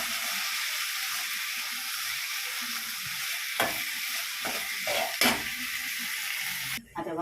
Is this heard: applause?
no